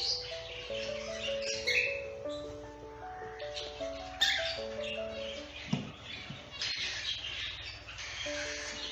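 Cockatiels in a breeding pair's cage with their chicks, soft chirps and squawks scattered over faint background noise, with tonal whistled notes running throughout and a few sharp knocks.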